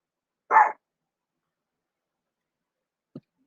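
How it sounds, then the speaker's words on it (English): A single sharp dog bark sounds close by in a quiet room, followed after a long silence by a faint short click or yip. "And what are you barking at?"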